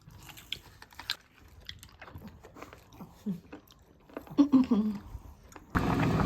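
Someone chews raw sea cucumber at a home meal, with soft mouth sounds building to a few louder, crunchy bites near the end and brief murmured voices mixed in.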